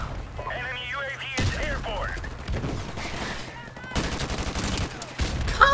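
Rapid bursts of gunfire from a Call of Duty Modern Warfare Remastered multiplayer match, loud and sustained, with sharp volleys starting and stopping through a busy firefight while a player talks over it.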